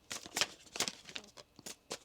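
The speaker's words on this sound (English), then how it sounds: "One more shuffle." Tarot cards being shuffled, a quick run of faint papery riffles and soft taps at close range, with no talking.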